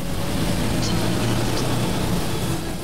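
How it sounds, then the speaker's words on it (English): A car engine runs while driving, giving a steady, loud, broad rumble and road roar that holds constant throughout with no clear voices over it. "I couldn't hear that over the noise of the engine"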